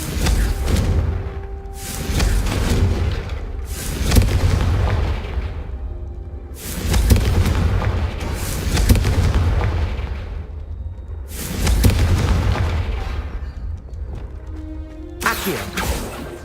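Repeated Confringo spell blasts in Hogwarts Legacy, a series of heavy booming explosions roughly every two seconds, each with a crackling rumble that fades before the next, plus a brief sharper burst near the end.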